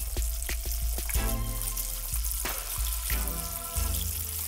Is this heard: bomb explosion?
no